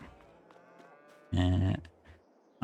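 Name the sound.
cows mooing in a farming video game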